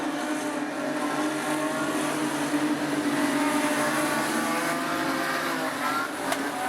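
Super street sedan race cars running single file around Rockhampton Speedway produce a steady, droning engine roar that holds at a fairly even pitch and level, heard from trackside without any sharp changes.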